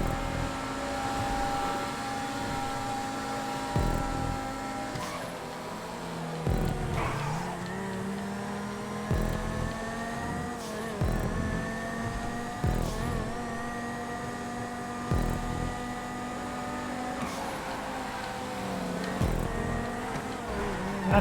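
A Banshee sports car races against other cars around a custom track in GTA 5, with a steady engine drone and rising, shifting whines as it accelerates and changes gear, plus occasional whooshes of nearby cars throughout.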